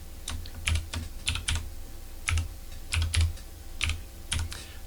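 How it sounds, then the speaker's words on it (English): Typing on a computer keyboard while entering an item name in a World of Warcraft private server: irregular bursts of close, crisp key clicks separated by short pauses. "we're going to type in up here"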